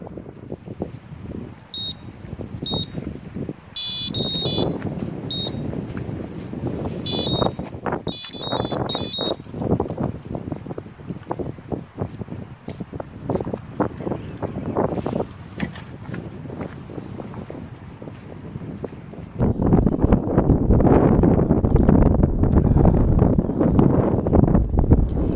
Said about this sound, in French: Ce vent gelé.